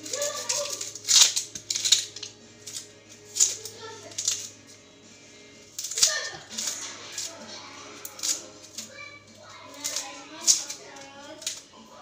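Onion and garlic being sliced on a board, a run of quick, crisp cutting taps in irregular bursts, close and moderately loud over a steady low hum.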